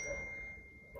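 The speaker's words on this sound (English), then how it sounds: "oh, that was my phone." A phone notification chimes once indoors with a steady, bright ding that rings out and slowly fades, heard alone with no talking.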